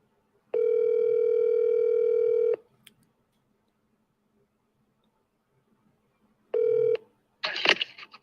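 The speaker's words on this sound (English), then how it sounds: "So let me try to dial one more person because that wasn't a good call." A telephone tone sounds for about two seconds, followed by a long silence and a second brief tone. A crackly, noisy burst from the line follows as a call is placed.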